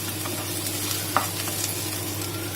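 Vermicelli upma base sautéing in a hot pan: continuous close sizzle and frying hiss with a faint stirring scrape, no speech.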